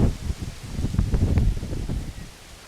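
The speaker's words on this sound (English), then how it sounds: "Wind's picking up again." Wind gusts rustling across an open battlefield, a steady broadband rush that swells and then eases toward the end, with faint rustling over it.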